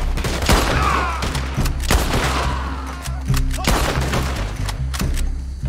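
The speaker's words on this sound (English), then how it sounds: "I'm using the rifle." Rifle shots ring out in Red Dead Redemption II, several sharp loud cracks spaced a second or so apart over a steady low game rumble, with no talking.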